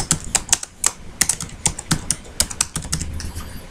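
Someone types a wanted job title on a computer keyboard, producing a close, brisk run of clicky keystrokes. Uneven taps with brief pauses run for a few seconds, with no talking.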